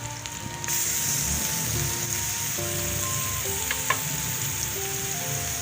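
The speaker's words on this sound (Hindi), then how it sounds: "मैं लहसुन अदरक पेस्ट शामिल कर रही हूँ।" Garlic ginger paste sizzles and fries steadily in a hot pan while beef liver is being cooked, a continuous close hiss with faint stirring clicks and no talking.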